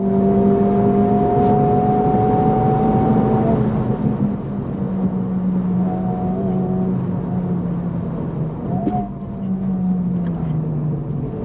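A 2023 Honda Civic Type R laps the Sonoma race track, its engine droning loud and steady with gear changes as pitch rises and falls, while tire and wind noise stay in the background.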